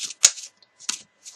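A deck of tarot cards is shuffled in quick crisp riffles, two brisk bursts and a lighter flutter at the end, close and alone with no talk.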